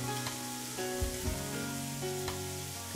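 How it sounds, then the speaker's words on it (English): A filet searing in a big hot non-stick pan on high heat, a close, steady sizzle with crackling pops and a few soft bumps as the meat shifts, no talking. "it's very important that you get the searing done properly. And high heat is very important."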